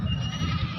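A goat bleats at a livestock market, a single loud, close, wavering cry lasting under a second.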